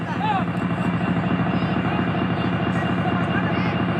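A helicopter comes in to land near a meeting, its rotor thudding in a dense, continuous, loud drone that fills the whole stretch without pause.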